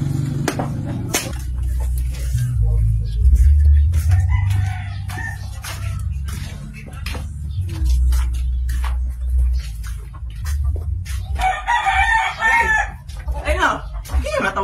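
A rooster crows near a farmyard amid clucking fowl, with a strong low rumble throughout and voices talking in the background, the calls loudest toward the end.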